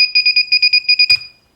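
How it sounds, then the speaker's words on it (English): An FPV quadcopter flight controller buzzer gives a rapid series of about nine loud, shrill electronic beeps in an even rhythm, ending with a brief click-like burst before silence. "This is buzzer."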